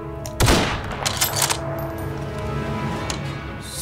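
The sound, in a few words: gunfire in military roleplay video game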